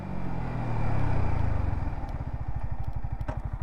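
A motorcycle braking hard on its rear brake from 60 km/h: a loud engine drone fades as it slows, settling into a steady, rapid idle-like thumping, with no voices.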